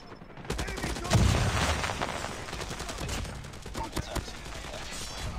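LMG machine gun firing in the Call of Duty Mobile video game, rapid bursts of gunfire with sharp repeated cracks over steady game background sound, moderately loud.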